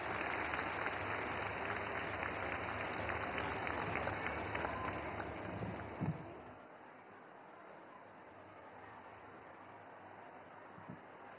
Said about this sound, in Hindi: तालियों से स्वागत करें माननीय मंत्री महोदया का